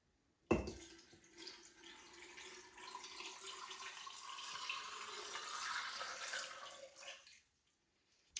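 Lime solution, a quart of it, pours steadily into a container of eggs, a close, continuous splashing and trickling of liquid for about seven seconds before it stops.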